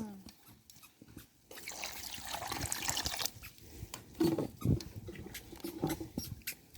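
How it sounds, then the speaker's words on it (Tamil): Water trickles and splashes as it is poured into a pan of sugar for syrup, in uneven bursts, with voices nearby. "இதில் தண்ணி ஊற்று"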